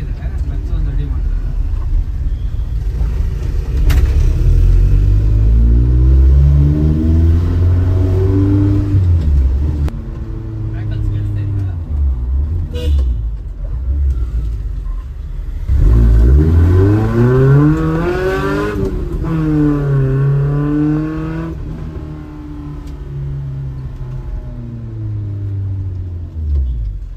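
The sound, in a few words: performance-upgraded car engine revving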